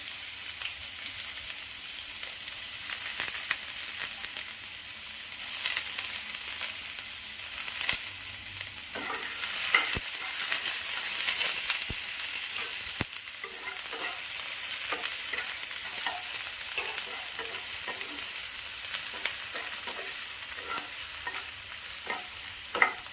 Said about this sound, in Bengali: পেঁয়াজগুলো হালকা ভাজা হয়ে গেলে মশলা দিয়ে দেবো।